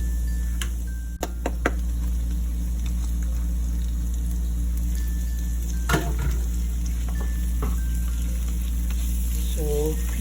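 Minced onions and garlic frying in a pan for Thai bagoong fried rice, a steady close sizzle broken by a few sharp clicks and stirring scrapes.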